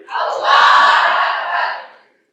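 A crowd at a school philosophy closing ceremony roars back in unison in answer to a takbir call, a single loud collective shout rising quickly, holding for about two seconds, then cutting off.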